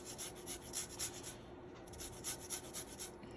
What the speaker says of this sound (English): I'm zesting 1/2 of it